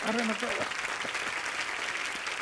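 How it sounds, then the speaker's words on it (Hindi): A TV show studio audience applauds briefly and fairly softly, the clapping sitting under a speaking voice at the start. "आप सबकी जोरदार तालियों के बीच"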